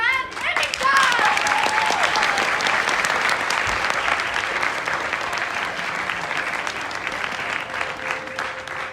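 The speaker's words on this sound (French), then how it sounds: "applaudissez notre invité spécial, Nolan et Victor!" An audience claps loudly and steadily for special guests at a French live performance, a dense sustained wash of applause with a few voices and brief tones at the start.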